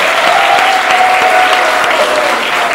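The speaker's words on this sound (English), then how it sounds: "Big round of applause." Audience at a cocktail event at Soul Gastrolounge breaks into loud, sustained applause for an invited guest from Durham Distillery, dense clapping steady throughout with no talk over it.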